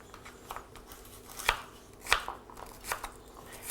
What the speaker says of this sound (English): It tells me to slice into matchsticks